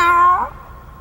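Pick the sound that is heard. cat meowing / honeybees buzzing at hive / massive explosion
cat meowing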